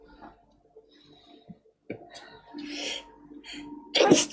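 A sharp, close sneeze bursts out near the end after quiet shuffling and faint small sounds.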